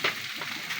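Garlic fried rice (sinangag) made from leftover rice frying in a pan, a soft steady sizzle with light stirring scrapes, fairly quiet and close.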